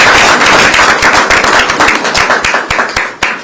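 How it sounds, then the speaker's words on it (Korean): A crowd at a Korean political party gathering gives loud, close applause: sharp, crackling hand claps that thin into scattered, separate claps as it fades over a few seconds. "문대리 의원에게도 큰 박수를 부탁드립니다"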